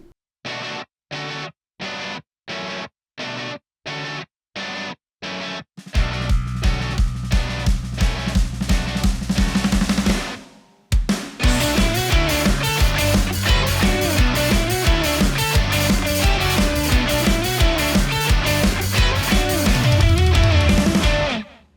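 Distorted guitar riff: first staccato chord stabs with silent gaps, then a driving riff joined by harmony guitars, bass and drums, building into a dense, loud full-band groove with a short break midway.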